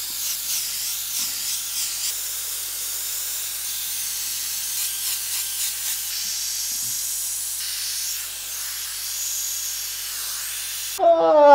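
An airbrush sprays a light blend, its soft steady hiss running throughout with a few pulsing bursts near the start, and a louder burst of noise cuts in right at the end.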